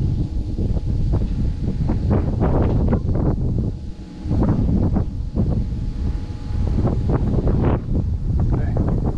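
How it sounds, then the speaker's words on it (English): Strong wind blowing outdoors beside a field ditch, buffeting the microphone with loud, continuous rumbling gusts that dip briefly and then return. "Wind."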